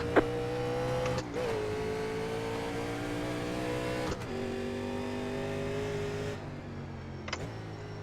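NASCAR race cars from the 1987 Legends series accelerating at Road Atlanta in iRacing, a loud close engine drone climbing in pitch, cut by several abrupt gear shifts.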